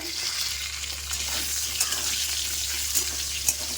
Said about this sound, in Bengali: এখানে হচ্ছে আলু ভাজা হচ্ছে